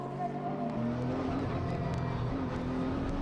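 A Lexus race car brakes hard into the chicane at Fuji during a Japan Cup race, its engine note dropping through downshifts in a loud, continuous drone with other cars close by.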